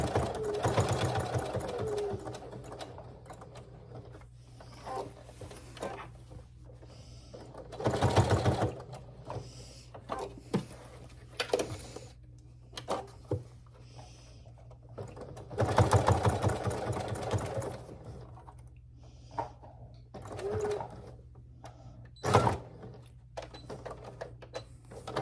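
A sewing machine stitches a fabric tote bag in repeated bursts of rapid mechanical whirring, some short and some longer, separated by pauses, recorded close up.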